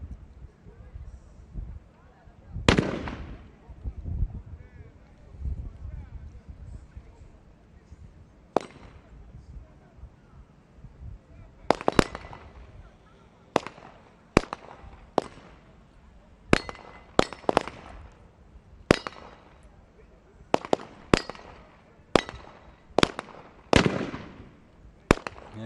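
Rifle shots at a SWAT challenge competition ring out as a series of sharp, isolated cracks, about a dozen spaced irregularly over the stretch, fairly distant with faint background noise between them.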